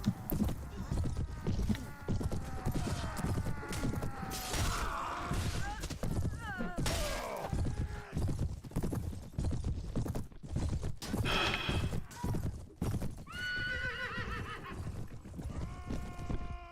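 Hoofbeats clatter alongside several shrill horse whinnies during mounted battle in Mount and Blade: Warband, mixed with thuds and combat noise while someone talks over the action.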